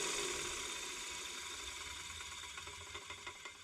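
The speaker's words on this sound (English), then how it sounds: "the motor's turning the right direction for when I mount it to spin the pulley" A 240v electric motor for an air compressor spinning freely before mounting, a faint steady whirring hum with light rhythmic ticking toward the end and no talking.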